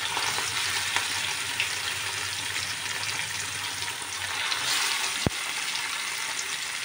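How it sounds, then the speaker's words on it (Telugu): Fish pieces sizzle lightly in a pan of oil while being prepared for a curry, a steady close frying hiss with a single sharp clink of a utensil near the end. "లైట్గా ఫ్రై చేసుకోవాలి"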